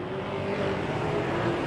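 Saloon race cars, a mix of Fords, Chevys and Holdens, roar together in a New Zealand Saloon Championship race, a dense, continuous engine drone with rising revs throughout, loud and close with no talk.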